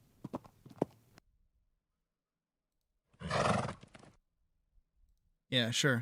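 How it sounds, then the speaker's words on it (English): A sound-effect horse neigh plays in two separate bursts, a rough, strained whinny of a dying horse followed by a shorter shrill one. Brief clicking and a short spoken reply come before the neighs. "That is the sound of a dying horse"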